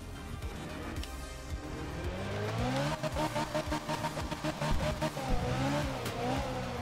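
Rally car in Art of Rally descending a mountain road in Kantō, engine revving steadily with rising pitch, tyres briefly squealing, loud and close with a pulsing rhythm of gear changes toward the end.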